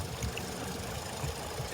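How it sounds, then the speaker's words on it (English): A boat engine idles out on the Louisiana Delta, a low, even rumble with soft rhythmic pulsing that stays steady throughout the short stretch. "I'm going to get the boat like just headed kind of straight across and just keep idling it"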